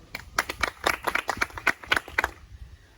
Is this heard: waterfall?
no